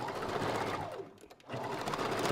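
A sewing machine backstitches a seam while a wig is made from Spanish wave hair bundles. It runs loud and close, pauses briefly, then whirs steadily again.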